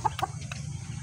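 Chickens make short, soft clucks close by while pecking at scattered feed, a few quick calls spaced across a brief moment.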